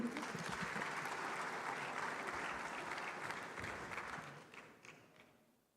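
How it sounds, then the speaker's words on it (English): Sustained applause from a big conference audience at the 30th Afreximbank Annual Meetings, dense and steady at first, then gradually thinning and fading to quiet over the last second. "Please, a round of applause for him."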